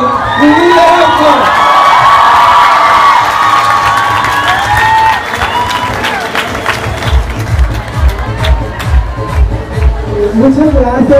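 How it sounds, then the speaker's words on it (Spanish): Large crowd at a gay pride march in León, Guanajuato, loud and close: sustained cheering, whoops and children's shouts, with scattered clapping and mixed voices. The noise swells, then turns to busier chatter and rumble in the second half. "Les pido un fuerte aplauso para recibir a nuestra primer regidora trans en el estado de Guanajuato, Lidia Ocho."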